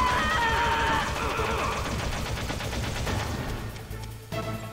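Rapid gunfire and bursts of shooting from the video game Metal Gear Solid rattle loudly over a game soundtrack, then thin out toward the end.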